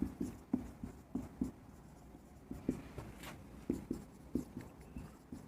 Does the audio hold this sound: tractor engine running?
no